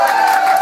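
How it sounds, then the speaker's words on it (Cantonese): A crowd cheers and claps at a beatbox battle final, a brief loud burst of whoops and shouting with applause mixed in. "俾啲掌聲你自己"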